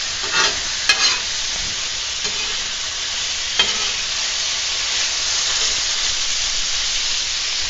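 Tuna dish frying in a pan, a steady loud sizzle running throughout with a few light clinks and stirring scrapes near the start.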